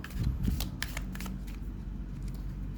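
Thai fortune-telling cards riffled and shuffled by hand close by, a run of quick papery flicks and snaps clustered early, then softer scattered card sounds over a low room hum, with no speech.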